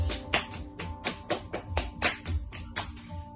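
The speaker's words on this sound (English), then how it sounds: "give your legs and thighs a little bit of a clap" Hands slap legs and thighs during a Pilates stretch, roughly a dozen quick close claps in an uneven rhythm with no talking.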